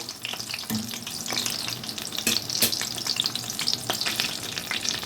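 Steady crackling sizzle of cabbage rolls frying in oil, with a few sharper pops and scraping touches as they are turned, no talking.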